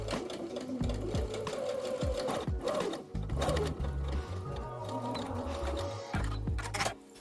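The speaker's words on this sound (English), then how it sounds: "you just sew in the same way to enclose the bust cup seam" A domestic sewing machine stitches the enclosed bust cup seam of a tie-front ruffle-hem dress, running close by in short mechanical bursts with a rapid needle chatter and brief stops between runs.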